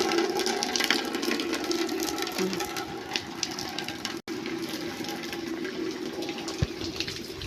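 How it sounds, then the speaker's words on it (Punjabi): Water rushes in a steady, continuous roar, full and unbroken, with no voices over it. "ਸਾਡੇ ਇੱਥੇ ਪਾਣੀ ਇੰਨਾ ਆ ਗਿਆ ਨਾ ਬਹੁਤ ਜ਼ਿਆਦਾ ਪਾਣੀ ਆ ਗਿਆ"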